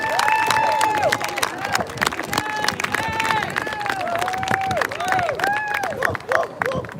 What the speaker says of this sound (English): No, Dwayne, you got all that applause.